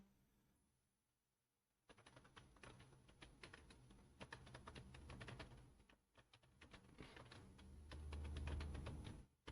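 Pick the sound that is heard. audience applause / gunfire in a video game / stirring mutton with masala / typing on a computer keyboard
typing on a computer keyboard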